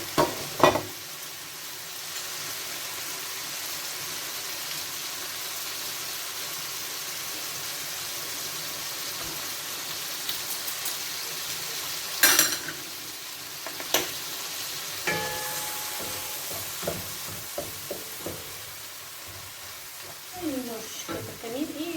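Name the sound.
tomatoes and garlic frying and being stirred in a pan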